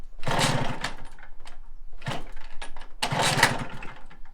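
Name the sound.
MBK Magnum Racing XR moped engine being started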